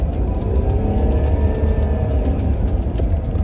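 A car engine revving steadily with the transmission slipping in second gear, a loud, constant low rumble with a faint whining tone rising slightly, close by and without speech.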